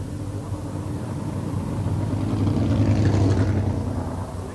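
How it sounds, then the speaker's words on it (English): A 1985/86 sprintcar, car 77, at Speedway Park Adelaide gives a steady, loud engine rumble that swells and fades across the clip as it is blipped on the accelerator, with no voices over it. "giving the Sidmore-owned 77 car a few squirts on the accelerator"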